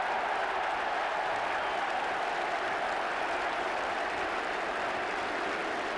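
Steady, dense applause and crowd noise from a stadium football crowd after Watford score their third goal against Leicester City, a continuous even roar without pauses.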